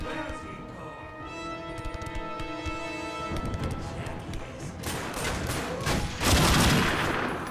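Gunfire in the video game The Darkness 2 comes as rapid bursts of shots over a droning musical backdrop. The volleys grow denser and louder toward the end, with a heavy thump near the close.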